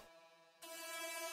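A synth sample pitched up an octave, starting as a thin quiet tone and then swelling abruptly into a bright, buzzy sustained sound that stays loud to the end, with no talking.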